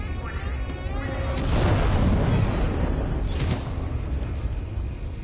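A heavy explosion in the Alien: Isolation video game swells into a loud, rumbling roar around the middle of the clip, then fades into lingering debris and crashing noise.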